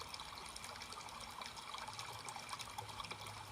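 Fountain water trickling and splashing steadily in park gardens with brick walkways in Portsmouth, New Hampshire, a continuous soft outdoor wash of flowing water with a faint low rumble beneath.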